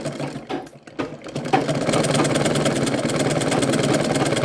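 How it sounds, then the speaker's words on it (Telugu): A sewing machine runs reverse stitching along a blouse lining up to the shoulders, starting in short bursts and then settling into a steady, close, fast whirring hum. "మళ్ళీ ఇంకోసారి రివర్స్ కుట్టు పెట్టుకుంటాను భుజాల దాకా"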